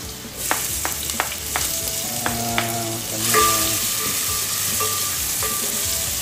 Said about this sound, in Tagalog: So unahin natin yung bawang.